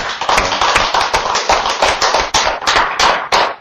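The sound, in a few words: church congregation clapping in applause to God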